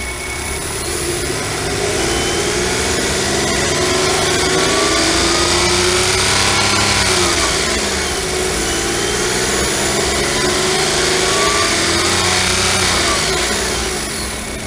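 Nissan Note e-Power petrol engine revving while the car sits stationary, a loud steady drone that swells and holds with shifting harmonic pitch for about fifteen seconds, no talk over it.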